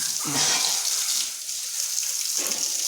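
Water splashes and runs steadily as a cow's udder is washed before milking on a farm on a rainy morning, a close, continuous pouring sound with short bursts.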